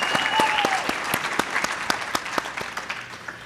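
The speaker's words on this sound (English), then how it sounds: "Everybody, let's give a round of applause for Stephanie Urchick." A few people clap in scattered, distinct claps at a leaders' conversation event on polio, sparse and fairly close, with a brief whistle-like tone near the start.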